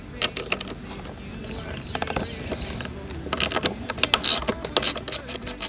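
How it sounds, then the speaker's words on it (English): Ratcheting wrench clicks in short bursts while a 10 mm bolt on a motorcycle clutch/brake lever assembly is loosened, close and fairly clear with small metallic taps between. "let's take it off. 10 millimeter. Yep, we're going to go lefty-loosey."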